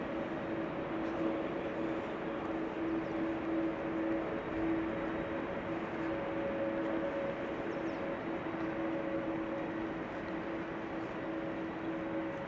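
A Boeing 787-10 Dreamliner landing on runway 06 at Amsterdam Schiphol makes a steady, distant jet roar with a faint sustained whine running throughout, and no voices.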